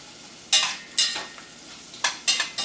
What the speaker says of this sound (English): We're just going to mix in the salt and pepper here.